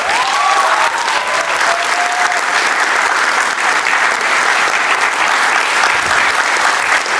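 Loud, sustained audience applause for a play's director and actor, dense and even throughout, with a brief cheer or whistle near the start.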